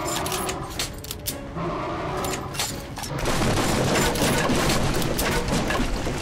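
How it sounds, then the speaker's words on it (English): Gunfire in the video game Metro: Last Light, with a burst of sharp shots followed by a denser stretch of rapid firing that stays loud and close, and no one talking over it. "look how easy it was to basically switch and start firing off ammunition"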